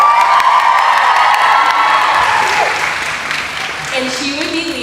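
Audience cheering and applause at a grand assembly, loud clapping and high excited shouts and whoops from a crowd that slowly ease off, with a few voices standing out near the end.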